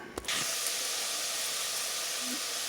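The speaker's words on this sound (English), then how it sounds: "I got my onions and my celery in here sauteing." Onions and celery sauteing in a sauce pot, giving a steady, bright hiss and sizzle that follows a brief knock at the start and continues evenly to the end.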